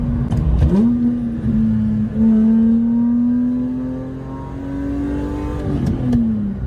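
A BMW E46 M3 with a Valvetronic Designs valved sport exhaust revs hard nearby, its deep exhaust note rising and holding, then dropping back before climbing again.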